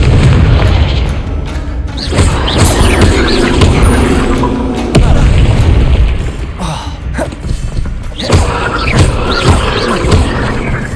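In the video game Hogwarts Legacy, the Confringo explosion spell sets off loud, dense booming blasts that roll on almost without a break. Thuds and bursts overlap throughout, with occasional sharper pops.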